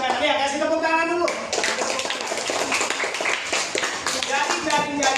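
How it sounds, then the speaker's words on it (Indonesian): A classroom of students claps together in a loud burst of dense, overlapping applause that follows a teacher's voice at the start. "Ya, kasih tepuk tangan dulu."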